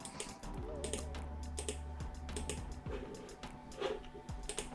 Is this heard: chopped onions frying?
no